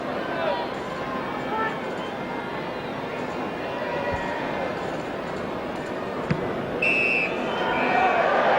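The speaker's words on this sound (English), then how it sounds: "there's the final whistle" A short, shrill referee's final whistle sounds late on at a Manchester City v Tottenham Hotspur football match, over crowd noise and a commentator speaking throughout.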